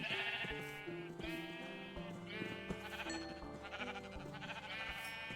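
Sheep in the video game Minecraft bleat repeatedly, several wavering cries in quick succession over a faint game background, fairly close.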